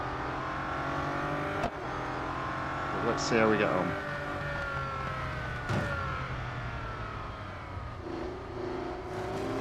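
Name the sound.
race car engine in Real Racing 3 video game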